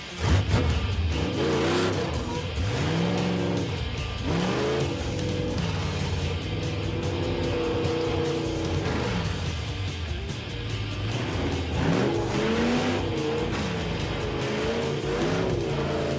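Car circling a track with engine revving up and down repeatedly, loud and close, with rising and falling engine pitch, some tire squeal through the turns, and no talking.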